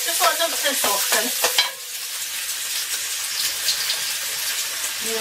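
Vegetables fry in a pan for creamy spaghetti, a hissing sizzle with clattering stirring scrapes in the first two seconds, then a quieter steady sizzle on its own.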